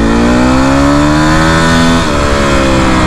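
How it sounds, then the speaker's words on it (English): A dirt bike engine revs high in second gear, a loud, steady, rising whine held close to the rider, then drops sharply as the throttle eases and the bike keeps running. "I'm in second gear and I'm gonna let you listen to going too high in the RPM range here"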